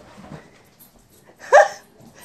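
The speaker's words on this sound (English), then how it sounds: "my dog goes crazy when the mail lady comes in" A dog lets out a single sharp bark as the mail carrier arrives at the house, loud and close, after a few faint softer sounds in an otherwise quiet room.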